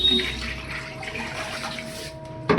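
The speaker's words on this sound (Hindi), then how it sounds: "जब उठाए बाल्टी बैठाई बाल्टी, गिरा पानी" Water spills and splashes from a bucket lifted off the floor, a continuous wet pouring wash that ends in a brief louder splash at the close.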